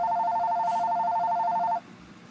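The Bat Phone from the Batman comics rings with a steady, bright two-tone electronic trill for about two seconds, then cuts off abruptly, leaving a faint background hush.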